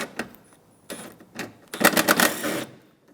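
A 10 mm screw being removed from the bumper of a 2014-2019 Toyota Highlander, with short bursts of ratcheting clicks and whirring between pauses, loudest in a longer run near the end.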